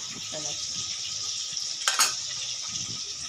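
Chicken sautéing in a pan with ginger, garlic and green chili masala makes a steady, bright sizzling hiss with one brief utensil clatter midway and faint voices in the background.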